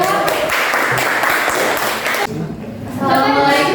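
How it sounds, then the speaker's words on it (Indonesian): Loud, dense clapping from a classroom of students applauding a presenting group, a fast continuous patter with a brief dip partway through before it swells again, with voices mixed in. "Ya, tepuk tangan untuk kelompok 2."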